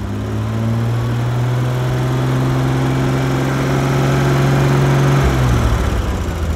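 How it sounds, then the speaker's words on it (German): A loud six-cylinder engine of a 1967 Jaguar E-Type 4.2 Roadster idles with a steady low drone, then its tone shifts and drops slightly as it settles toward the end. "Super Sound hat so ein Motor."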